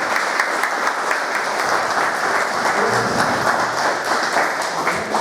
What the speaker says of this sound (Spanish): Un aplauso también para el profesor Carlos Balbuena